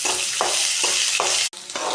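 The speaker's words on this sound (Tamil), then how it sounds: "வெங்காயத்தை வதக்கிக்கலாம்." Onions sautéing in a hot pan for a spiced dish, a steady loud sizzle with rhythmic stirring scrapes every half second or so and a brief dropout near the end.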